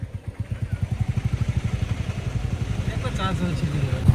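A motorcycle engine runs steadily nearby with a rhythmic low thump from the exhaust, rising slightly toward the end, while people talk over it.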